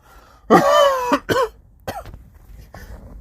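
Loud, rough coughing and throat clearing up close, one long hacking burst followed by a few shorter coughs trailing off.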